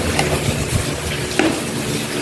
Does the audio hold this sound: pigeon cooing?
no